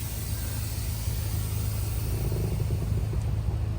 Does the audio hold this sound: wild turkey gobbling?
no